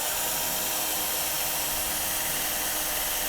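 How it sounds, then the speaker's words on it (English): A continuous high-pitched whine of a power drill boring steadily through a CNC machine part beside aluminium extrusion, close and loud for the whole stretch with no speech. "I'm just going to drill all the way through"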